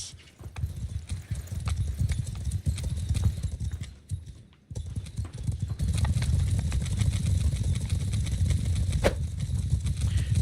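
Horse hooves clip-clop in a video game battle, a steady, moderately loud rhythm over low engine-like rumble, with a brief dropout midway.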